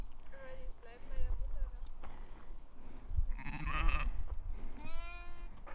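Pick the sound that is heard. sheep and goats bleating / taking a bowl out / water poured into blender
sheep and goats bleating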